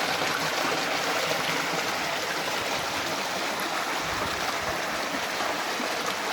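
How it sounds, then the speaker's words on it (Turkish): Water pours steadily and abundantly from a historic stone village fountain in Akyaka, Bayburt, a continuous, close, loud rushing splash with no pauses throughout. "Su çok bol olduğundan ne yapmış? Artık musluk falan yetmiyor suya."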